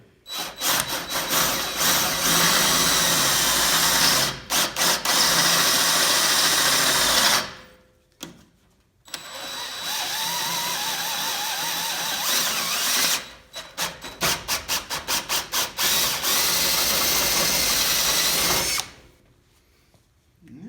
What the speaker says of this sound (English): So we can drill the 7/16 hole here and put a bolt in.